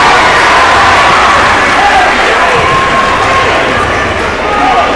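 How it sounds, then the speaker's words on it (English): A loud gymnasium crowd roars and cheers continuously at a girls' high school basketball game, a dense wash of noise with voices throughout. "This crowd is as loud as I think I've ever heard it in my time here"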